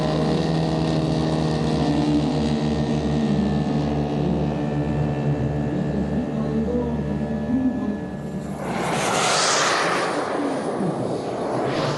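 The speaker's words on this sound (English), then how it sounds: "are powered by ZDZ 210cc engines" A large model airplane's ZDZ 210cc petrol engine drones loudly and steadily, then a sudden whooshing roar rises as it passes close by.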